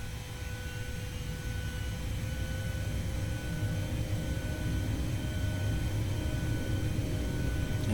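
Steady, dense jet roar from an IXEG 737 at takeoff power in X-Plane 11, a constant broadband rumble with a faint whine that holds at even loudness throughout, with no talking.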